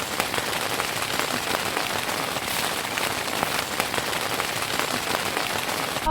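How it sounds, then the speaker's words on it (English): Steady rain falls outside a parked camper, a dense, even patter of drops on surfaces, close and fairly loud with no voices. "Oh, the rain."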